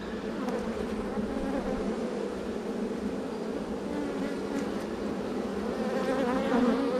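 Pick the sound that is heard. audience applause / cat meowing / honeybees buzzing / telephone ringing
honeybees buzzing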